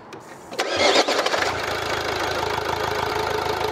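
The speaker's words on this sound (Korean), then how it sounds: "지금 이 상태에서 시동 걸 수 있나?" A Volvo V60 engine cranks and fires up in a workshop during coolant-loss diagnosis. A brief starter whir and a catch are followed by a close, steady idle with a rhythmic knock-like pulse.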